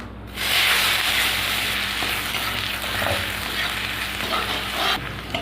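Chopped onion and whole cumin seeds frying in hot oil for a Bengali silver carp fish curry, a loud, close, continuous sizzle with stirring scrapes that starts sharply and cuts off near the end.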